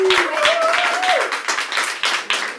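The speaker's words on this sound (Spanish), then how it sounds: "vamos a darle un aplauso bien grande a estas dos invitadas nuestras" Audience clapping welcomes two guests onto a television talk show, brisk and close, with a brief rising tone and some voices mixed in underneath.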